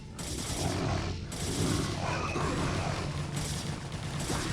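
A StarCraft: Brood War battle on the Eclipse map in which Protoss zealots and photon cannons fight Zerg units, giving dense continuous combat noise: rapid crackling hits and booming impacts that stay loud throughout with no talk.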